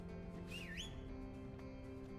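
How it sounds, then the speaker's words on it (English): A single short whistle emote in the video game The First Descendant, a bright two-part rising and falling tone over a low steady game ambience hum, quiet and brief. "This is the whistle emote that you get on the battle pass, which also actually makes a sound."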